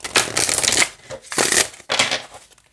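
A flexible high-gloss oracle card deck is overhand shuffled up close, three crisp bursts of riffling, slapping cards separated by short pauses, with no talking.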